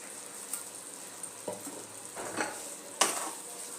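Jhinge aloo posto with mustard oil frying in a pan, a soft sizzle under several distinct scraping stirs of a spatula, the last one loudest, with a light clink of utensil at the end.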